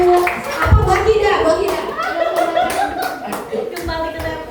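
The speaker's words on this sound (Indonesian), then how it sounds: "tepuk tangan dulu dong buat Bu Linda" A small group claps for Bu Linda during a teachers' training session on positive school culture in Bulungan, with scattered hand claps running under ongoing talk and light chuckles.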